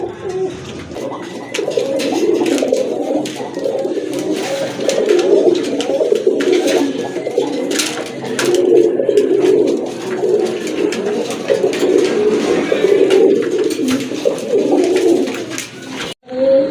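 Giribaz pigeons coo steadily throughout, low rolling calls overlapping one another at close range, with no talking.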